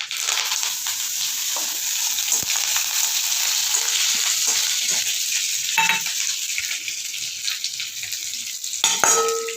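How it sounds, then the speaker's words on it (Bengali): Mustard seeds and curry leaves sizzle and crackle steadily in hot oil for a tempering, with a loud continuous hiss, scattered pops and a couple of brief metallic clinks near the end; no one speaks. "এই ফোড়নটা হয়ে গেছে, এই সর্ষেগুলো ফুটছে, এর মধ্যে দিয়ে দেবো এই যে"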